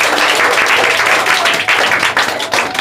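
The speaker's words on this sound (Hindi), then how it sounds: "तो इनके लिए भी एक बार जोरदार ताली होनी चाहिए।" Loud, dense applause from students in an offline classroom on Teacher's Day, vigorous clapping filling the room close by and continuing throughout.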